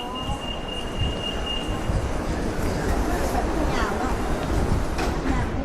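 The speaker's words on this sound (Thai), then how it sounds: "เดี๋ยวเราจะรอชมรถไฟวิ่งไปก่อน" An underground train rumbles past with a steady roaring hiss, a brief high squeal early on, and faint chatter in the background.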